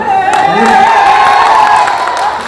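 Audience in a college hall in Thiruvananthapuram clapping and cheering throughout, a dense, loud, continuous wash of applause with shouts and whoops rising over it.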